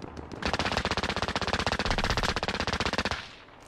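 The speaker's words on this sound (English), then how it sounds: "Random shots coming." Rapid automatic gunfire in the video game Warzone, a loud sustained burst of evenly spaced shots lasting about three seconds before cutting off.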